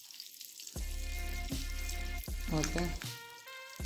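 Cashew nuts fry gently in ghee over a low flame, giving a steady close sizzle that swells after a quiet start, with occasional stirring clatter and a brief spoken word.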